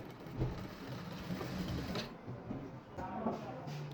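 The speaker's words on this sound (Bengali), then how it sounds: "এখানে এসে সেলাই শেষ করব" A sewing machine stitching trousers, a steady fast mechanical whirring hum up close, running continuously at moderate volume with brief voice in the background.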